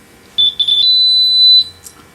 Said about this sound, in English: We will start our combustible gas leak detector and our